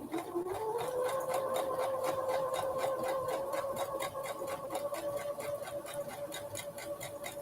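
A sewing machine stitches sashing onto quilt rows, running at a steady fast rhythm close up for several seconds after a brief speed-up, with no talk.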